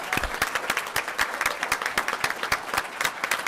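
Lively applause from a council meeting audience, dense overlapping claps at steady loudness filling the room throughout, with no talking over it.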